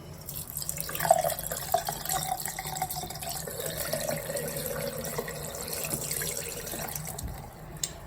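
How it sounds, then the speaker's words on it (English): Liquid splashes and gurgles as it is poured into an Airstream trailer's sink drain during winterizing, close up, with a few sharper drips at the start and end. "just pour it right down the drain"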